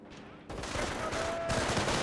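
Company of Heroes battle: German Grenadiers open fire on a rifleman squad, a steady rattle of rifle and machine-gun bursts in two surges, moderately loud and alone.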